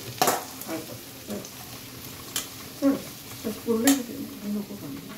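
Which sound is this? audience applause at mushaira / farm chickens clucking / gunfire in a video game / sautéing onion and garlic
sautéing onion and garlic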